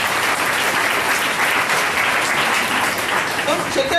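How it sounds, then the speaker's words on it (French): Enthusiastic applause from a congregation in church, a dense, steady clapping that fills the whole stretch, with voices mixed in beneath. "Applaudissez pour le Seigneur."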